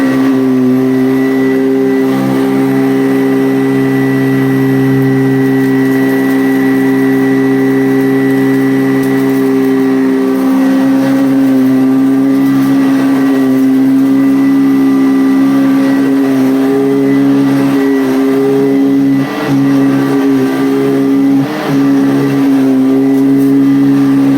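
Vacuum cleaner with strong brush agitation running on a low pile area rug at the low carpet setting, a loud steady motor hum with a constant tonal whine, close and continuous throughout with no talk.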